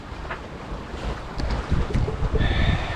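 Steady wind buffeting the microphone with low rumbling gusts, growing stronger toward the end, over faint water and boat noise.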